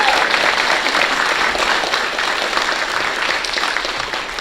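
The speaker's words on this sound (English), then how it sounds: "So I'd like to recognize her and give her a round of applause." An audience at a Willis ISD school board meeting claps loudly and evenly in dense, sustained applause that lasts the full few seconds.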